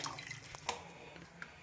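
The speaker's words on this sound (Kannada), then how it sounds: "ಈಗ ತರಕಾರಿ ಬೇಯಿಸಿರೋ ನೀರಿತ್ತಲ್ವ, ಅದನ್ನು ಇದಕ್ಕೆ ಹಾಕ್ತೀನಿ" Vegetable and lentil cooking water is poured into a pot of fried spices for a pumpkin and sprouted-bean bassaru curry: a faint, steady trickle with a few soft splashes and drips, quiet and close, with no talking.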